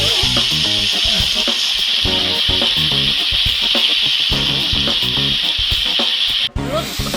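Potato, onion and carrot frying in a pan while being stirred, a loud, continuous close sizzle with rough scraping strokes throughout, cut off by a brief break near the end, without speech.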